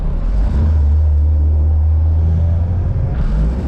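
A Honda Civic EG converted to a manual gearbox driving, heard as a loud, steady low engine drone and road rumble from inside the car, with no talking.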